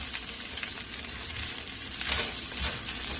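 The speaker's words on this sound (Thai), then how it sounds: "ผัดสับปะรดให้นุ่ม ๆ" Pineapple is stir-fried in a pan for pineapple fried rice, giving a continuous soft sizzle with brief scraping stirs, close and moderately quiet, with no talking.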